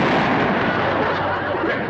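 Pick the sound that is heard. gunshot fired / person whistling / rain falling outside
gunshot fired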